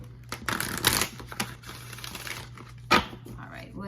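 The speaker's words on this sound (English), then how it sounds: "I'm just gonna shuffle here." Quick riffling and flapping of tarot cards being shuffled, in short bursts with a sharper slap near the end, under a low hum and occasional speech.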